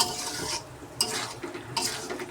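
A spoon scrapes and clinks around a pan as meat with freshly ground garam masala is stirred, a few bursts of scraping over a faint sizzle, close but fairly quiet.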